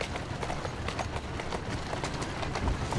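Rapid horse hoofbeats clip-clop in a steady running rhythm in Assassin's Creed Syndicate, close and continuous, with light rumbling underneath.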